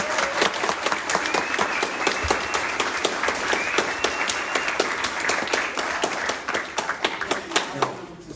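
An audience of euphonium enthusiasts at a university masterclass bursts into loud, sustained applause welcoming guest artist Steven Mead, dense clapping filling the room without pause.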